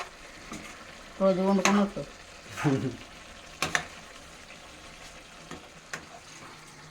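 Tempering sizzling in a pan for a homemade chicken curry, with a few short bursts of frying and stirring in between quieter stretches, while someone speaks briefly over it.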